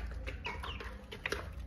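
A hen clucking inside a henhouse, with a few short, close clucks and calls set against a steady low hum of the coop.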